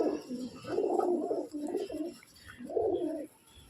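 Pigeons from a collection of thirty to forty birds coo in two rolling bouts, a low, throaty burbling at moderate distance with a pause between, and no voices.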